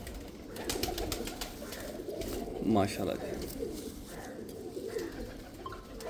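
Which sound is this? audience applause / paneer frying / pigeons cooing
pigeons cooing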